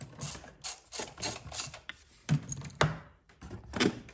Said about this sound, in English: I'll completely undo this nut in here.